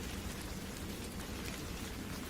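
Steady, dense hiss of heavy rain pouring down during a thunderstorm over a boat, loud and continuous with no voices.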